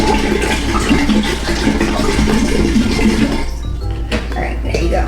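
Hot water pours into a jar for homemade kombucha, a continuous, fairly loud rushing splash with a low hum beneath that thins out and changes near the end.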